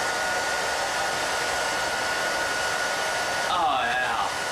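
A blow dryer runs loud and steady throughout, its broadband roar holding constant, with a brief wavering tonal whine rising near the end.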